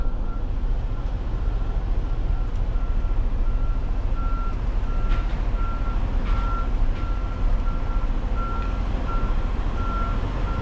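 A truck reverses a liftgate trailer toward a loading dock on a city street, its backup alarm beeping steadily at a regular rhythm over a constant, loud engine rumble.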